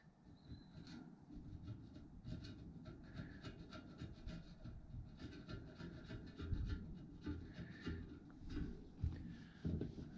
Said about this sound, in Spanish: hay como un poco de pegamento que solo tendremos que quitar ahora con un destornillador sin llegar a dañar